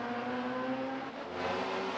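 Race cars roar steadily at a distance on Sepang International Circuit, engine tones droning and shifting as they run around the track, with no voices.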